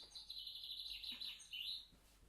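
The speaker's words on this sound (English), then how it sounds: "a chaffinch, and it sounds like this." Chaffinch song, a rapid run of bright chirping notes that descends and ends in a short flourish, heard clearly and alone for about two seconds.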